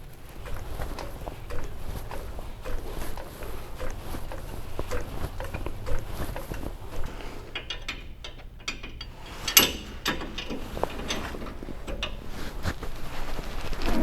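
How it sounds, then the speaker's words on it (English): A ratchet clicks steadily and continuously, up close, while unbolting old U-bolts from a car's rear axle, with one louder metallic snap partway through. "unhook the old U-bolts and blocks, pull them out, drop the new ones in"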